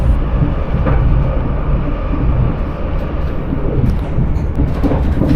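Steady low rumble and rattle of a Southern passenger train crossing the Balcombe Viaduct on the London to Brighton line, heard from inside the carriage, loud and continuous with no talking.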